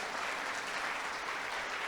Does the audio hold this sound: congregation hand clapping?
yes